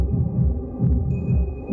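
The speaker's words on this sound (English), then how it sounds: "It sounds like this bass is dropping downstairs." Muffled bass thumps from a party downstairs in the video game Lydia pulse in a steady beat as if through a floor, low and throbbing, with a faint hum over it.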